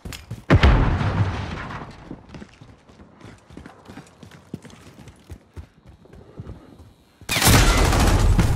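Rapid bursts from a sentry gun in Call of Duty: Modern Warfare, a sharp loud volley near the start, then a stretch of scattered quieter shots and clatter, ending in another dense, loud burst of fire.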